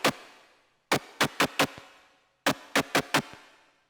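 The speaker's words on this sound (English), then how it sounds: "It's just this really short, very distorted snare-like sound." A short, heavily distorted snare-like hit made with the Thump One synth for a hard techno track, struck in two bursts: one hit, a pause, then quick clustered repeats, each crack dry and fading fast.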